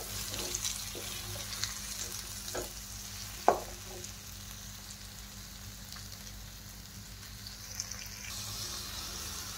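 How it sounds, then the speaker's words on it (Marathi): Bitter gourd being stir-fried in a pan over low heat, with a soft steady sizzle, occasional scraping and stirring clicks and one sharper knock of a utensil against the pan, close by with no talking. "आता मी कारले व्यवस्थित परतून घेणार आहे."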